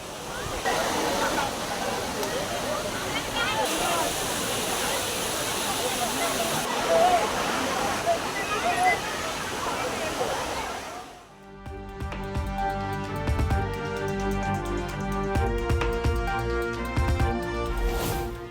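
Water pours steadily down Kavi Aruvi waterfall at Aliyar near Pollachi as a dense roaring rush, loud and continuous for most of the stretch before giving way to music near the end.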